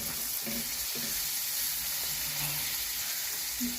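Onions sizzle in a pan with a constant fine hiss and a few soft scraping stirs, heard close and fairly quiet with no talking.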